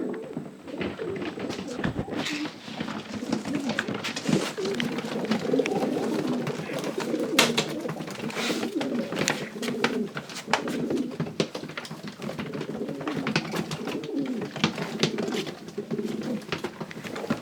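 Pure Janssen racing pigeons coo continuously up close, soft layered cooing with scattered wing flutters and clicks, no voices.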